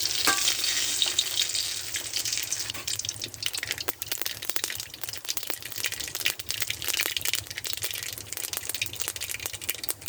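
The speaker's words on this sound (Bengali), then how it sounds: "আমি কড়াইতে তেল দিয়েছি দেখেন। তারপর দিয়ে দেবো একটা শুকনো মরিচ" Dried chilli, mustard seeds and black cumin frying in oil in a wok, a continuous bright sizzle with rapid crackling pops throughout.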